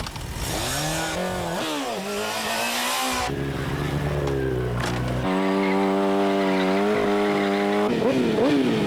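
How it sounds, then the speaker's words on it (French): A loud motorcycle engine revving and whining up and down in pitch nearby during stunt riding, with tire squeals and a continuous roar throughout. "Le stunt, c'est ça, de l'acrobatie en moto."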